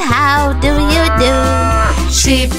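A drawn-out cow moo in a children's nursery rhyme, loud and sustained over a steady musical backing for the whole stretch.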